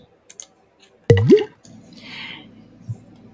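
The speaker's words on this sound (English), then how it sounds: "take your cut orange pieces and run them through a juicer, or use a hand juicer to squeeze the liquid" Cut orange pieces pressed in a hand juicer, giving a few small clicks, a sharp squishing squeeze, then soft wet dripping and a faint final drip, close and with no talking.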